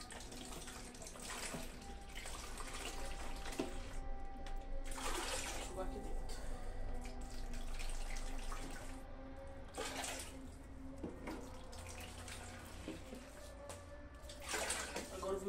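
Warm water runs from a tap over grated dough in a rural kitchen with a wood-fired stove, splashing in several bursts between pauses, close and moderately loud, with someone talking quietly at times.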